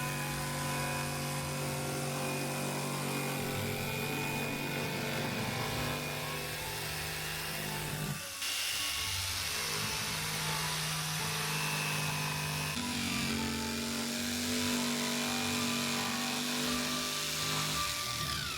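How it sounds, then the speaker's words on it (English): A power jigsaw cutting a penguin shape from plywood for outdoor Christmas yard art, a steady loud buzzing whine running continuously with brief changes in pitch as the blade works through the wood. "he's drilling some holes so that he can fit his jigsaw in and cut out the shape that he's traced"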